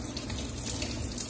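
Acidic water flows from a commercial 22-plate hydrogen drinking water ionization machine as a soft, steady running stream, heard close and quiet with no talking.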